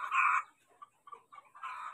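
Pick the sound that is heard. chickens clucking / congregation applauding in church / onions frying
chickens clucking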